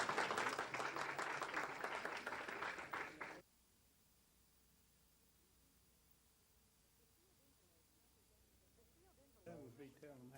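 An audience claps loudly and steadily for about three seconds before stopping abruptly, followed by a long quiet stretch and then a voice speaking at the end.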